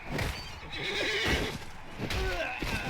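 A horse in the video game Mount & Blade: Warband neighs and whinnies loudly and close, with clip-clop hoofbeats and battle noise around it.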